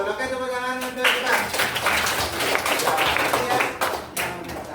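A class of students claps together in a school lesson, a burst of sharp hand claps starting after a brief voice, with scattered claps and voices mixed in.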